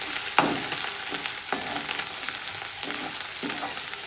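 Garlic sizzles steadily in a pan for palak paneer, making a close hiss with crackling. Regular scraping stir strokes land about once a second throughout.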